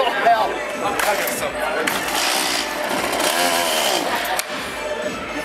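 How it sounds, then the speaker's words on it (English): A chainsaw runs loudly and close, its buzzing engine revving unevenly, with voices and crowd noise mixed in. "That's a chainsaw."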